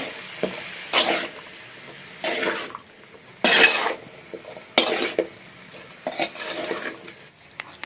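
Avarekai beans stirred in a pan over a low flame, a spoon scraping and clattering against the metal in five or six separate bursts, with a faint sizzle between them and no talk.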